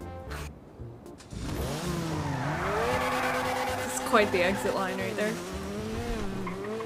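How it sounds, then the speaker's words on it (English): Engine revving and tires squealing from a car in GTA 5, a rising whine with sharp skidding screeches, loud and close, while someone talks over it. "With the car rev too"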